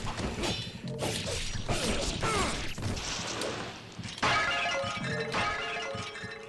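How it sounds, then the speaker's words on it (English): Pots smashing in Ninja Gaiden, with several sharp crashes and shattering hits mixed with whooshes and clanking game effects in quick succession. "iconic pot smashing sound"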